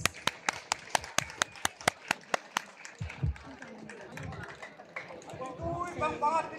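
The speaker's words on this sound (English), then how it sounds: "Let's give them a round of applause." Applause for Barangay Baguinge after their Baddang cultural performance: a run of sharp, steady, rhythmic claps for about three seconds, then fading into murmuring voices and a loudspeaker announcer talking.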